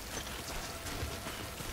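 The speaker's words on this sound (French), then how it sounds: "on est à l'abri de la pluie" Rain falls in the video game Death Stranding as a soft, even hiss with scattered patters, heard briefly and alone.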